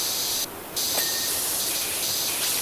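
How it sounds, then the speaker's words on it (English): A power washer sprays water in a loud, steady, close hiss that keeps up throughout, with a brief change in tone partway through. "you just can't do it while it's spraying water, because there's too much water pressure going up against it"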